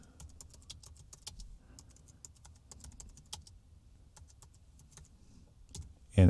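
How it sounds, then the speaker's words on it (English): Typing on a computer keyboard, a quick run of light, irregular key clicks heard close and alone, ending with a louder knock at the very end. "And you can just type"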